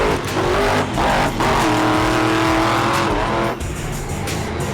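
A race car engine at a South Pacific racing event revs hard and repeatedly as the driver works the throttle, loud and close, rising and falling in pitch with bursts of acceleration and possible tire noise.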